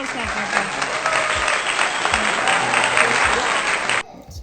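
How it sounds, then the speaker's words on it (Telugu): Dense, steady clapping from a small group fills about four seconds at close range before stopping abruptly, with faint voices underneath. "applause claps"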